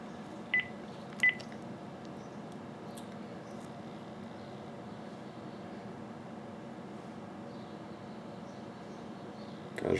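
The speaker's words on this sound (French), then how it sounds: "je vais tout simplement prendre mon téléphone de maison, puis me téléphoner" A home landline telephone is dialed: two brief keypad tones sound early, then a long stretch of steady low hum with little else.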